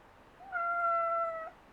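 A house cat gives a single clear, drawn-out meow lasting about a second, moderately near and alone over faint room hiss.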